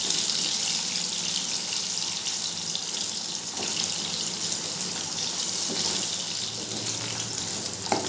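Potatoes fry in oil while being stirred, a steady loud hiss running unbroken throughout with faint scraping under it and no voices.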